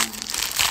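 A plastic bag crinkles and rustles close by, a brief continuous crackle with no voices, as a shopping bag is pulled out of a market tote.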